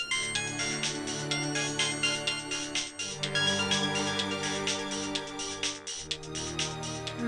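A phone ringtone plays when someone calls Krish's phone, a melodic repeating electronic tune in regular phrases, fairly loud and alone with no talking.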